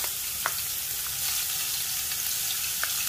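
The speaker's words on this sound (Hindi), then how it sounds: "ऑयल हो गया गरम, अभी इसमें मेरे पास ये चॉप गार्लिक का थोड़ा सा मैं ये डाल दूंगी।" Chopped garlic sizzling in hot oil for vegetable fried rice, a steady close crackling fry with a few sharp pops and light stirring, no talking.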